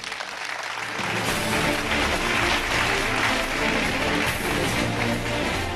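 Loud, sustained clapping from a talent show audience on Pakistan's Next Mega Star, swelling after a brief quieter start and holding steady to the end.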